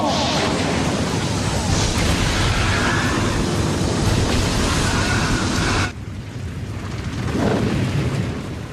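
Fire-style flame bomb jutsu explosions in a Naruto anime fight, a loud sustained roaring blast lasting several seconds, then cutting off abruptly to a quieter rumble that swells again briefly.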